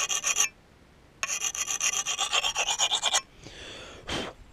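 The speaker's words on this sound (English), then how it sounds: "I just sharpened my blade." A hatchet blade is sharpened on a sharpening stone in two loud bursts of rapid rasping strokes, a short one and then a longer rhythmic run, followed by a couple of softer swishes with no talking.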